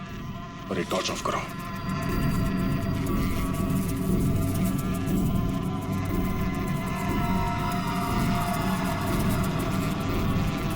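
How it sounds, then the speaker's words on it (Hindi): Honeybees swarm around a hive in a quiet, deserted spot, a steady dense buzz filling the scene throughout, with people talking briefly at the start. "और मधुमक्खी के छत्ते को छेड़ना मौत को दावत देना है।"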